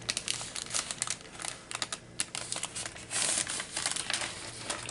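Paper from junk mail being folded into a DIY envelope, close crinkling and creasing with quick crackles and rustles and a few sharper taps.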